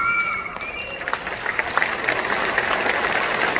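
Dense, steady applause from an audience at a Hindi poetry recital (kavi sammelan), swelling slightly after the first second and holding full and close for the rest.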